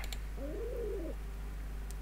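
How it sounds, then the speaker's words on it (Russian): A single soft pigeon coo from the puzzle game Cube Escape, a short warbling call of about half a second over a steady low background hum. "Так, теперь голубь."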